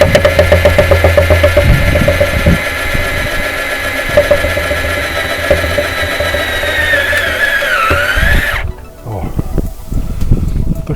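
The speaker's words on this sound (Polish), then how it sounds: "chwilę trwa, bo to wiertełko chwilę wierci." A small drill bit whines steadily at high speed, biting into a steel wheel rim, with a rising pitch before it stops; a clatter and brief sounds follow.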